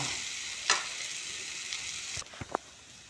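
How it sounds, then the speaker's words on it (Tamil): Tomatoes and onions sautéing in oil, a continuous close sizzling hiss with a stir at the start and a few soft clinks of the utensil near the end. "எண்ணெயில் போட்டு நல்லா வதக்கிட்டேன்"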